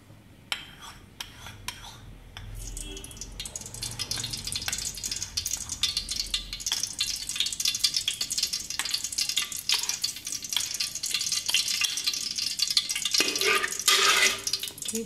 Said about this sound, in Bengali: যে অল্প ঘিটা আমাদের ছিল তো আমরা ঘিটাও দিয়ে দেব।